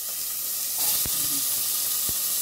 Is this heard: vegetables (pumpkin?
yes